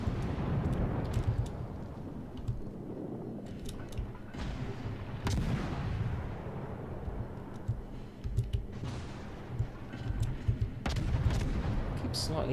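Warship guns firing in World of Warships, heavy booming salvos and rumbling impacts rolling one after another over a constant engine-like drone, loud and close, with someone talking over parts of it.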